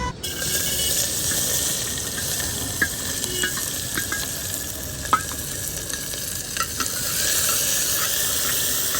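Spices sizzle and crackle steadily in hot oil, close up, with occasional sharp pops and a light scraping stir; no speech.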